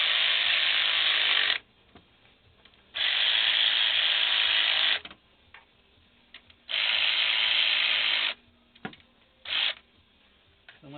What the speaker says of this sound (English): I use my power ratchet to run them in because it's hard to get in there